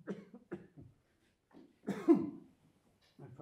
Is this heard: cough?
yes